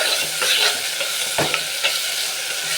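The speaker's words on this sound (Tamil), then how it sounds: "இப்போ நான் அதையும் அதிலே போட்டு வதக்குறேன்" Chopped tomatoes sauté in oil in a pan, a steady close sizzle broken by a few scraping stirs of a spoon, with no voices.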